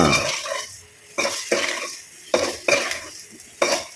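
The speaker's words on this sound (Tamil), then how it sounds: "பாவக்காயெல்லாம் சுருண்டு வர அளவுக்கு இப்போ நல்லா வதக்கணும்" Bitter gourd and tomato are sautéed in a pan, with loud, close, rhythmic bursts of spatula scraping against metal over a soft sizzle, about six strokes, no talk.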